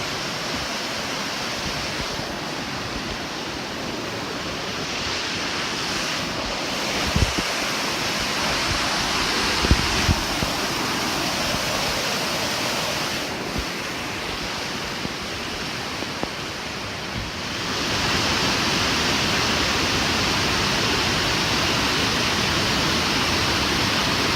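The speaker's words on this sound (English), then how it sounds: "Quite a river." A big river rushes beneath a large bridge, a steady broadband roar of moving water that holds nearly constant for the whole stretch, with a few faint knocks and a slightly louder swell near the end.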